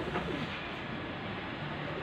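Pigeons coo softly in a breeder loft, low murmuring calls repeating steadily over a constant background hiss with no talk.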